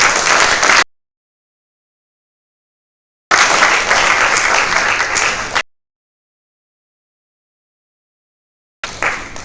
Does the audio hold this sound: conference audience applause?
yes